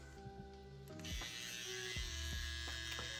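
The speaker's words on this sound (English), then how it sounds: "the sound of the motor on the V1 is a little more rattly" A Hummingbird Bronc V1 tattoo machine runs at 9 volts with a needle fitted, giving a steady, close electric motor buzz with a slightly rattly edge that holds for about three seconds.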